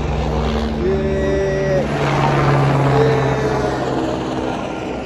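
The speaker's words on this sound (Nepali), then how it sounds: "हेलिकप्टर पनि आउँदैछ" A helicopter drones steadily with a rotor hum that swells a little, continuous throughout with no talking.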